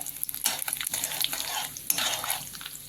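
Urad and chana dal sizzle and crackle in hot oil with cumin while being stirred, a close, busy frying hiss broken by soft scraping and clinks of the pan.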